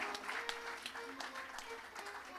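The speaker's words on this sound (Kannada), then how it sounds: "ಜೋರಾದ ಚಪ್ಪಾಳೆ ಬರಬೇಕು ಗುರು ಮತ್ತು ಶಿಷ್ಯರಿಗೆ" Audience applause honoring a dance guru and her disciple at a Gejje pooja classical dance program, a steady dense clapping that fills the short moment without a break, with a faint tonal hum underneath.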